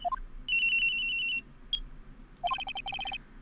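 A cell phone rings in the game Phoenix Wright: Ace Attorney – Trials and Tribulations, an electronic ringtone of bright trilling beeps in two bursts separated by a brief pause and a single blip.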